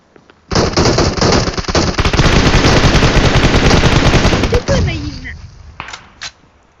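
Loud, sustained rapid gunfire in the video game PUBG Mobile rattles for about four seconds, then breaks into a few scattered shots, with voices faintly underneath.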